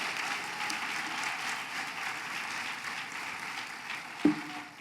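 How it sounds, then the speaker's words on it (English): An investiture ceremony audience claps for the 2025 graduates in a steady, moderately distant ovation, with a single sharp knock near the end. "one more round of big applause for the 2025."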